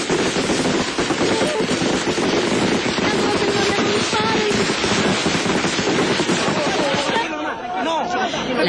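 Gunfire during violent clashes in the Peruvian jungle near Bagua, with dense crackling shots and bursts filling the scene continuously, mixed with shouting and crowd noise, loud and chaotic throughout.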